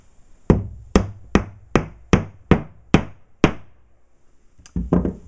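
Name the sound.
hammer tapping a drywall anchor into a hole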